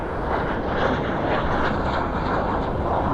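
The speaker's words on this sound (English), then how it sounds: "I didn't even think about being next to a place where planes take off and land." Airplane taking off or landing close by, a continuous loud broadband roar that stays steady and dense throughout, with no talking.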